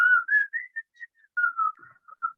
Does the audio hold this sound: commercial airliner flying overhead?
no